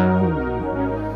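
Roli Seaboard controller driving a synth patch, a loud, thick sustained tone with a slight pitch bend partway through, heard alone and close.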